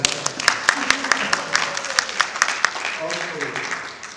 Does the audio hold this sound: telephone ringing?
no